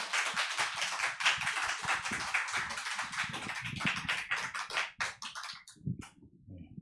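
A church congregation applauds a missionary in dense, sustained clapping that thins out and trails off into scattered claps.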